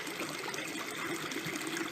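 Spring water in a ravine bubbles and trickles in a steady, soft wash of flowing water, faint and continuous with no voices.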